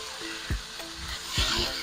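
Chicken stir-frying in a hot pan, a steady sizzle with a few sharp stirring scrapes and clatters of the utensil against the pan, close and fairly loud.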